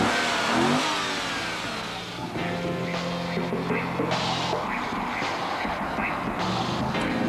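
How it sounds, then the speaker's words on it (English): A 284 horsepower, left-hand-drive Chevrolet Camaro Z28 Coupe engine revs and accelerates hard, a loud, close roar that dips briefly and then holds a steady droning pull, with no talk over it. "284 horsepower Chevrolet Camaro Z28 Coupe"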